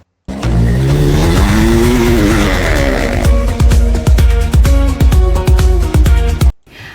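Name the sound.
AI-generated motorcycle drifting on desert sound effect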